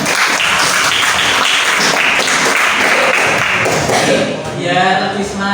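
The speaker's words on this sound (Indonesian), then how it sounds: "Beri tepuk tangan untuk kalian semua." Students in a classroom clap together, a busy burst of applause that thins out toward the end as a voice and brief tones come in.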